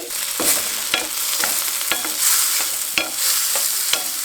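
Tomatoes tossed into browned onions crackle and sizzle steadily in a hot pan, with repeated sharp scrapes and clicks of a stirring spoon at roughly half-second intervals.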